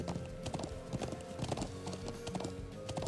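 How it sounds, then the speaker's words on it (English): Horse hooves in the video game Trails of Cold Steel clip-clop in a steady, even riding rhythm, fairly quiet and close, over a soft game music bed. "Horse riding is so calming."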